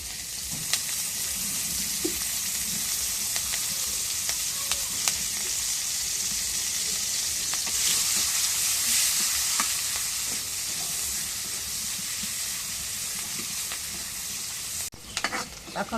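Onion, garlic and chili frying in hot oil, a steady close sizzle with occasional stirring clicks and scrapes, running continuously without any voices.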